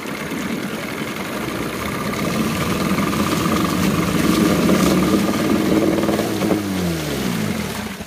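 A 1998 Johnson 9.9 short-shaft two-stroke tiller outboard, smoking a little on a 50:1 oil mix, runs steadily nearby and is wound up to higher revs, then the pitch drops as it winds down at the end.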